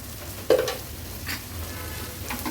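Green beans are stirred with salt and spices in a hot pan, a low sizzle under a sharp scrape of the spatula near the start and quieter stirring afterward.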